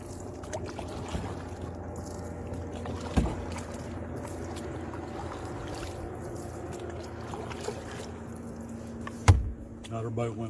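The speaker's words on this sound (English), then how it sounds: "Another boat went by on the right over here" A boat passing on the right, heard during an island trip from another boat on the water, gives a steady low engine drone under faint background voices, with a couple of brief knocks and thumps.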